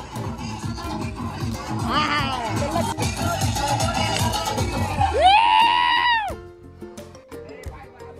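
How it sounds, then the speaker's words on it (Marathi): A college team celebrates winning the final of a cricket, kabaddi and football day. A crowd shouts and cheers in a rowdy, overlapping clamor, with one long high-pitched yell before the noise drops away. "या ठिकाणी फायनल जिंकून ENTC संघ खूप जल्लोष करत आहे"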